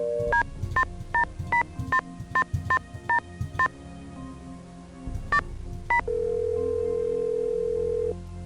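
A phone number being dialed in the Nancy Drew game Stay Tuned for Danger: a quick run of evenly spaced touch-tone beeps, a pause, two more tones, then a long steady ringback tone.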